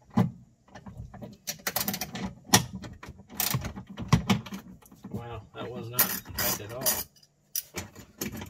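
A ratchet works on a 10 mm bolt holding a D-ring during a Curt wiring harness install on a 2020 Toyota RAV4 Hybrid, giving repeated close clicking bursts with clanks and handling noise throughout.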